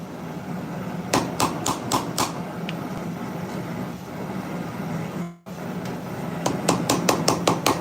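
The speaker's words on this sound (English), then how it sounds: "That's why I'm just hitting the spine." Hammer striking the spine of a hunting knife blade during heat treating, sharp metallic blows in quick bursts of four or five, with a brief pause before another rapid series over steady background rumble.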